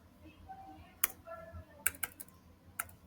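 Someone types on a computer keyboard: a few sharp key clicks scattered at irregular intervals, with softer keystrokes between them, close and fairly clear.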